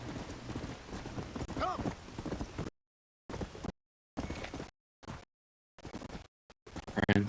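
Horse hooves clopping during a ride in Red Dead Redemption: Undead Nightmare, faint and broken by stretches of silence, mixed with other game sounds.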